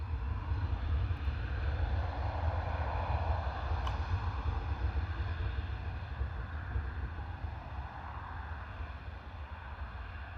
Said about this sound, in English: All right, KLM City Hopper power set.